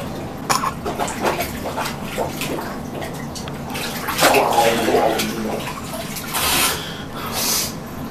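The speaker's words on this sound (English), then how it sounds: "I'm gonna fully submerge myself in the water" Person plunging into a bathtub full of water, splashing and sloshing in bursts close by, with coughing and sputtering breaths between the splashes.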